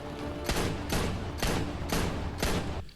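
Gunfire in the animated film Son of Batman comes as five evenly spaced, loud bursts over a steady background rumble.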